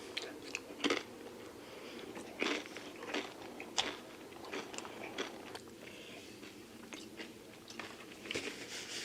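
Santitas tortilla chips dipped in peanut butter bitten and chewed close up, a steady run of crisp crunches and chewing with no talk.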